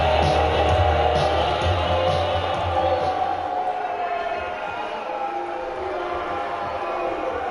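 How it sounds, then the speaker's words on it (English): A wrestling crowd in the WWE 2K18 video game boos with a broad, steady roar that fills the whole stretch, loud at first and settling into a sustained, dense rumble. "Yep, everybody gets booed in 2K."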